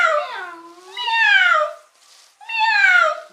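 A person imitates a cat with their voice, giving two drawn-out, rising-then-falling meows close to the microphone with a short pause between them.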